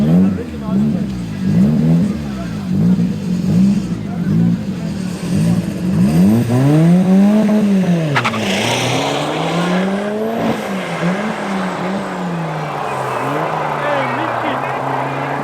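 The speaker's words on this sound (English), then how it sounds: "Next up is a diesel Porsche Cayenne going up against the Corolla." A diesel Porsche Cayenne and a Toyota Corolla drag racing at Midvaal Raceway: loud engines rev and rise through repeated sweeping pitch climbs, then a louder pull with a brief squeal before the sound settles into a steadier roar.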